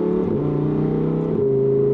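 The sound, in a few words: Lamborghini Huracan Tecnica driving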